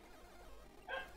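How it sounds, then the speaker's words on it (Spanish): A dog barks once, faint and distant, in a quiet room during Pokémon gameplay, a single short yelp near the end after low background hiss. "ya está ladrando el perro otra vez"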